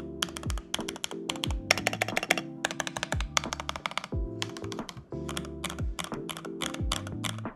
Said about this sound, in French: Je vais vous faire un petit test de bruit.